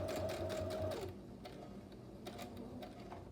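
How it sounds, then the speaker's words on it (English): Sewing machine stitching fabric for a bag, a steady fast whir for about a second that then stops, followed by quieter handling and faint clicks. "When I get close to this pin, I go ahead and stop and pull that pin out so that we don't run over it."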